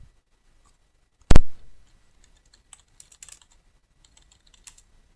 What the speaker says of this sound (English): Okay, and I type the title.